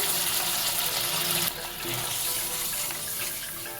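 Rinse water from a spice bowl poured into a cooking pan, a loud close rush of running water that drops and eases into a softer steady pour, with no voices.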